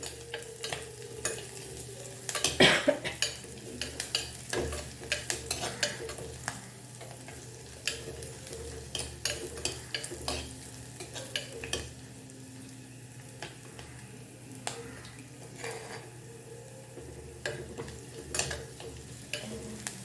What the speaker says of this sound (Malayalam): ഉള്ളിയും പച്ചമുളകൊക്കെ ഒന്ന് നല്ല മൂത്ത് വന്നിട്ടുണ്ട്.